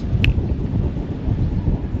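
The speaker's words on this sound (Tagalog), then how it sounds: "Lakas ng hangin dito." Strong wind buffets a microphone outdoors at a car sale lot, a steady, loud, low rumbling roar that keeps pulsing for the whole stretch with no voices over it.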